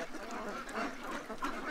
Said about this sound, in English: The geese are coming over to see us.